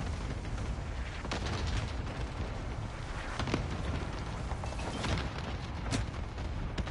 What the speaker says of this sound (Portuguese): Vem, vai vir um bombardeio aqui.